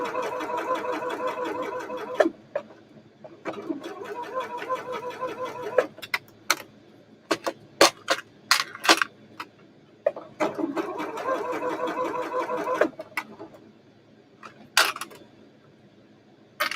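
A sewing machine stitches forward and back along shirt darts, running in bursts of rapid mechanical whirring separated by clicks and handling noises, close and moderately loud.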